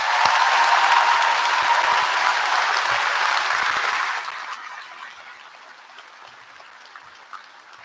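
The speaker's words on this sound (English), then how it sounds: "give them a massive round of applause as well" Steady applause from an audience, loud at first, then fading sharply about halfway and dwindling to scattered faint claps.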